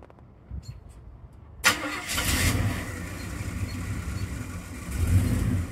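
A K20 short box truck's 400 small-block Chevy engine, with a 400 turbo transmission, starts with a sudden burst and then revs, running loud and rough with a swell in power near the end.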